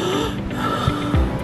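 A voice imitates noisy, laboured breathing of the kind heard with a cough and cold, a short rasping, snore-like wheeze with gasping pulls of air, close and fairly loud.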